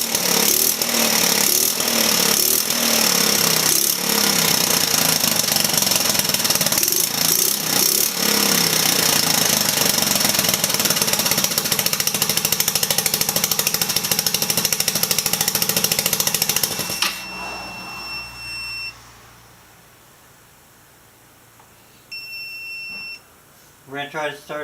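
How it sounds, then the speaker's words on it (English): A small Velocity 150cc engine fed two-stroke fuel runs loud and rattly close by for about seventeen seconds, then cuts out, leaving faint beeps and quiet background. "this is running off 2-stroke gas"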